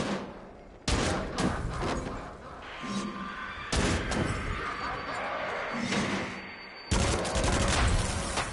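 An Uzi fires in Until Dawn: Rush of Blood, with loud bursts of rapid automatic shots in three separate volleys and heavy booming impacts, while someone talks over parts of it.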